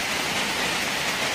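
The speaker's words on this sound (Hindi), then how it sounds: "बारिश हो रही है" Rain pours steadily during a hailstorm in Mussoorie, a dense, even hiss of falling water with no breaks and no voices.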